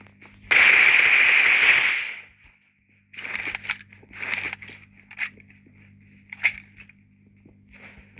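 A thrown bomb goes off in the PUBG Mobile game: one loud, close burst of blast noise lasting over a second, followed by scattered quieter crackles and thuds.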